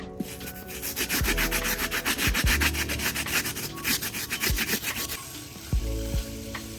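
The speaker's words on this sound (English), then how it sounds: "I'm going to use a wire brush and go ahead and scrub the soles down." A wire brush scrubs the rubber soles of Air Jordan 4 sneakers in quick back-and-forth rasping strokes, steady and close, with brief pauses and no talking.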